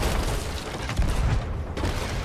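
A dense, rumbling burst of booming ship cannon fire in the video game Sea of Thieves rolls on continuously, loud and heavy, with crackling blasts layered over a low roar.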